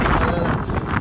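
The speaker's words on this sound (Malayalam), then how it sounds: "നല്ല കാറ്റിട്ടാ." Strong wind buffets the microphone outdoors beside St. Paul's Cathedral in Minneapolis, Minnesota, a continuous loud low rumble with gusty surges and no speech.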